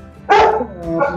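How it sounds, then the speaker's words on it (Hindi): A domestic dog barks indoors at home, a couple of loud close barks with a short pause between them, with no talk over them. "सॉरी मेरा कुत्ता भौंक रहा है"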